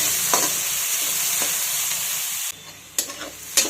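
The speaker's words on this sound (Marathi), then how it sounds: "कांदा आपण छोटा मोठा गॅस करून परतून घेणार आहोत।" Onion sautéing in a pan, a bright frying hiss punctuated by a few spatula scrapes, close and loud, with the sizzle dropping briefly before resuming; no voices.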